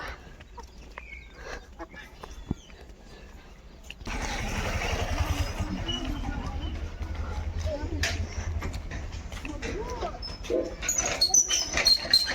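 Street dogs bark and whimper outdoors over a busy, noisy background with some rumbling, starting quieter and growing louder after a few seconds.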